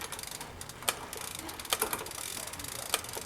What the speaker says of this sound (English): I'm going to keep looking and listening to the shifting.